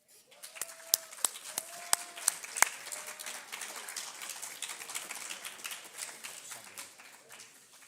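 Scattered applause from a modest school awards ceremony audience, with a few sharp distinct claps early on, then settling into steady, fairly faint clapping.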